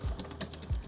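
Rapid typing on a Jelly Comb keyboard connected to a Galaxy Fold 2 phone, a quick run of close soft key clicks with no voices.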